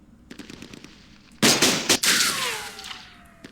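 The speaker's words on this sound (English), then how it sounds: "no effect at all from our gunfire" Gunfire in the Campaign Series Middle East war game, with a loud burst of automatic fire that breaks out after a quiet start, some sharp separate cracks, then a fading echoing tail.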